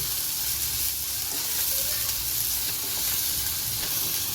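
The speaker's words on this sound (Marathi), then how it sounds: "कांदा मस्तपैकी फिरवून भाजून घेणार आहोत आपण मस्तपैकी" Finely chopped onion with curry leaves frying in a pan for homemade pasta, a steady dense sizzle with faint stirring, continuous and close, with no voices.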